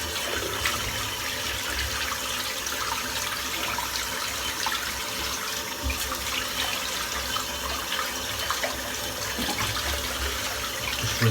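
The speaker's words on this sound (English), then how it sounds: "rinse the brush out as well." A shaving brush is rinsed under a running tap, with a steady close hiss and splash of water continuing without a break.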